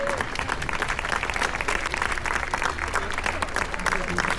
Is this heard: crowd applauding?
yes